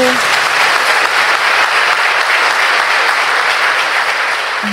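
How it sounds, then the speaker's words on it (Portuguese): Audience applause at a Bible study gathering in Santo Domingo, Dominican Republic: loud, steady, dense clapping that fills the whole stretch without letup and without anyone speaking. "Muito obrigada pelos aplausos"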